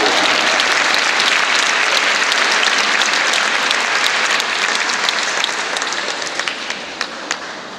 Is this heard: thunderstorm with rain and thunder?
no